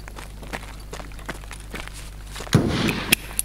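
A flashbang grenade goes off in the game Escape from Tarkov: a sharp, loud bang with a brief hissing tail follows a run of soft footsteps, then a few smaller knocks.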